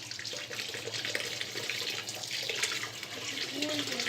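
Tap water runs steadily through a strainer of chhana being rinsed to wash off the vinegar smell for rajbhog, a continuous close splashing hiss throughout.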